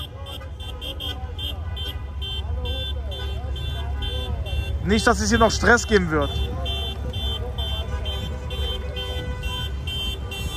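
Car horns honk in a Berlin street celebration after Spain won the European Championship, repeated toots over steady crowd and traffic noise while someone talks nearby.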